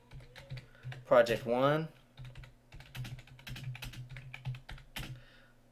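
Keys clatter on a computer keyboard as a task is typed into a simple project management app, a steady run of light clicks under a person talking.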